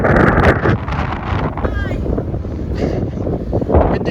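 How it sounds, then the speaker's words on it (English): Strong winter wind at a Cornish harbour buffets the microphone in a continuous loud roar, with a voice briefly heard over it. "Windy today."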